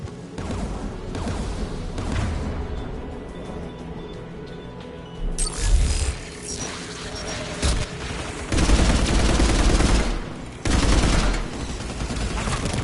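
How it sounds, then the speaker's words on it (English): In Mass Effect 3, anti-aircraft guns fire in rattling bursts with booming impacts that swell and fade over a steady battlefield rumble, and some talking is mixed in. "AA guns ahead of us."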